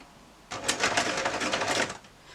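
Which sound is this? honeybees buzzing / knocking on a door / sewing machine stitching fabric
sewing machine stitching fabric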